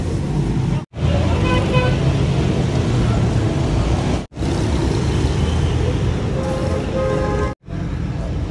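Steady broadband road traffic on a busy main road during a jam, engines rumbling continuously with brief gaps, no talk over it.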